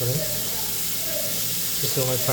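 Steady sizzling of food frying in a pan, a continuous hiss with brief speech over it.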